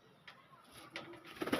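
A newly bought pigeon with striking coloured feet coos at a loft, giving soft, low calls that swell toward the end over faint background noise.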